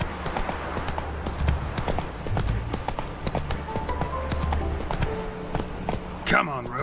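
Roach, a horse in The Witcher 3, gallops with a steady, loud clip-clop of hooves up close, the rhythm running throughout, with voices talking over it and a brief whinny-like call near the end.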